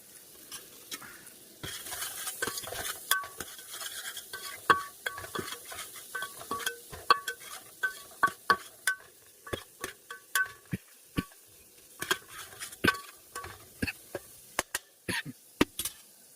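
A spoon stirs a frying pan of fish curry made with small bommidayalu fish, scraping and knocking against the metal in a steady run of sharp clicks over a soft background sizzle, close up and with no talking.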